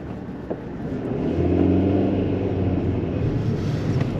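Manual-transmission car driven on a road in Ireland, a steady low engine rumble with road noise that swells slightly as it accelerates, heard from inside the cabin with no talking.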